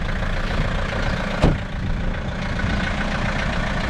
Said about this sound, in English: That's how you start a 115 diesel.